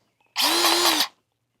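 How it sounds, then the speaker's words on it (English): A high-pressure grease gun runs in one short burst of under a second, a loud, steady mechanical whine that starts and stops abruptly, pumping grease into an excavator pin that is not taking grease. "It's a high pressure grease gun, and we'll see if it pops out of there."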